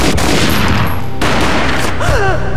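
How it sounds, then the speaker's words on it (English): A gunshot in the Max Payne video game booms out amid dense, continuous game noise and a loud soundtrack, with a brief high whine rising near the end. "A gunshot boomed and she fell down in slow motion"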